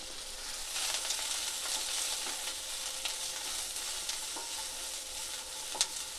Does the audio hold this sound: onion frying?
yes